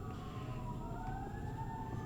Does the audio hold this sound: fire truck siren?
yes